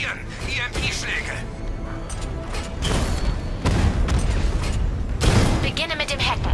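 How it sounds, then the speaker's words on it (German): Tanks blow up in the Batman: Arkham Knight video game during a defense of the GCPD, with deep booming blasts and mechanical rumble layered together in a dense, continuous barrage while German voices talk over the action. "Die Panzer explodieren."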